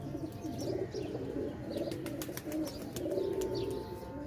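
Pigeons coo in soft repeated rolling phrases close by, with a few sharp chirps scattered over them.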